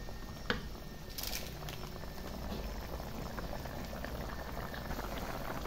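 Chili chicken sauce with green chilies simmers in a covered pan as the water reduces, giving a soft, continuous bubbling hiss with a few brief clinks near the start, heard alone at close range.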